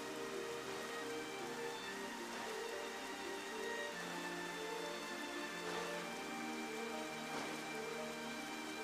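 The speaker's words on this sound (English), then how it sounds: "Yeah, it's raining right now." Steady rain pours in Xenoblade Chronicles, a dense even hiss that fills the whole stretch without letting up.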